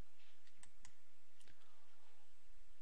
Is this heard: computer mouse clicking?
yes